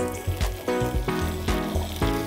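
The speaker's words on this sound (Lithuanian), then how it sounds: "Taip, dedame į kaitintą keptuvę porus." Leeks sizzle in a hot pan with olive oil and butter, a close, steady frying crackle with a few louder bursts over about two seconds.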